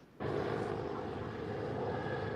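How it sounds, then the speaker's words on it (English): Steady broadband engine roar of aircraft overhead in the DC area, rising suddenly and holding loud and continuous with a low rumbling drone, heard outdoors without speech. "You will definitely hear helicopters and planes in the background at one point or another."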